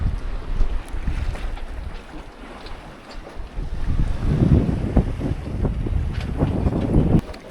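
Wind rushing over a sailboat at sea in the evening, a steady blustery roar that swells louder midway, with faint water wash and no talking.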